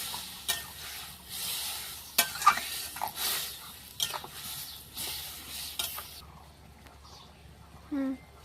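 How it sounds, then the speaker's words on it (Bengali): Spices and green chillies are stir-fried in a pan while cooking taro stolons, giving a steady close sizzle with repeated scraping stirs and light clinks of a utensil against the pan. "খানিকক্ষণ ভাজার পরে মশলাটা দিয়ে দেওয়া হলো, ভালো করে এখন কষিয়ে নিতে হবে।"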